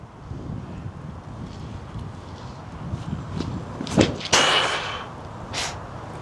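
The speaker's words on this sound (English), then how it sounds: "A little bit of headwind." Wind gusts buffet the microphone on a disc golf course, a steady low rush with a few sharper bursts and rustles toward the end, heard alone without talk.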